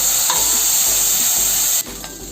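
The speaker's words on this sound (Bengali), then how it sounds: "আমি শুটকিটা ভালো করে ভেজে নেব।" Salted, turmeric-coated dried fish frying in oil in a wok, a loud continuous sizzle with occasional stirring scrapes, briefly quieter near the end as the pan settles.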